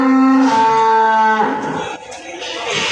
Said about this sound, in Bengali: গরু খুবই জোরে জোরে ডাকতেছে।